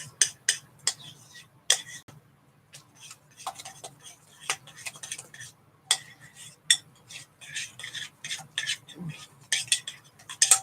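A utensil clinks and scrapes against a bowl while egg is stirred into cheeses for homemade calzones, irregular taps close up and crisp with quiet gaps between strokes.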